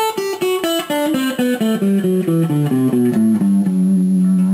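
A guitar plays a descending Dorian scale, one plucked note after another at an even pace, clear and close.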